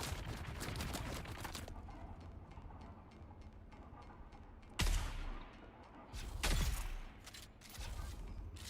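Gunfire in the game Dune Awakening, a rapid burst of close shots at the start, then quieter ambience broken by a few sharp, heavy reports later on.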